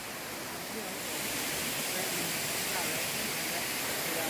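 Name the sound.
Pang Sida waterfall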